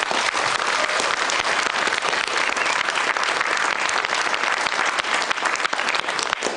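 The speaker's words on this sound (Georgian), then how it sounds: "აი ვინც თვლით რომ არ უნდა გავარდნილიყო პეტო, აი ძალიან მაგარი ტაში დაუკარეთ" A television talk-show studio audience applauds loudly and steadily, dense clapping filling the whole stretch close and full with no pauses.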